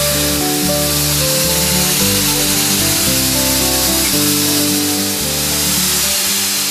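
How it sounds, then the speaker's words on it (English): Garnet abrasive blasts corrosion off metal in a loud, continuous hiss and roar from a sandblaster, with mechanical drone rising and falling in short stepped bursts close by. "using a garnet abrasive to sandblast off all of that corrosion and take it back down to white metal"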